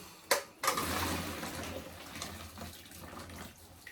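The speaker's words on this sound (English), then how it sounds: "I'm going to drain the pasta" Cooked pasta water pours out while pasta is drained at a kitchen sink: a brief splash and clatter, then a steady close rush of running water lasting several seconds.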